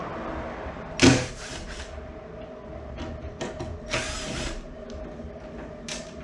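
Screws come out of a cover piece on a Ford Fox Body Mustang under the hood, heard as a sharp close tool clatter followed by faint ratcheting clicks and small mechanical rattles.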